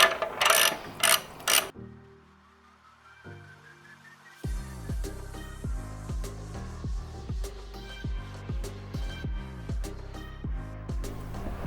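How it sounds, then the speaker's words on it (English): A ratchet loosens the muffler bolts on an Indian Scout Bobber. A few quick clicks come first, then a pause, then a long run of steady, evenly spaced clicking that is close and fairly loud. "we're going to loosen up these bolts holding the old"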